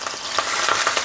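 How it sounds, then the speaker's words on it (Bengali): Pieces of rohu fish rubbed with salt and turmeric fry in hot mustard oil, giving a close, steady crackling sizzle with small popping bursts and no voices. "এখন আমি দেব নুন হলুদ মাখিয়ে রাখা"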